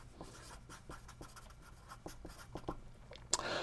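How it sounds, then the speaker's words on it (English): Chalk taps and scratches across a board in quick, irregular strokes as a counterexample is written during a lecture on Lie groups, close and fairly faint with no talking. "So let's write down a counterexample."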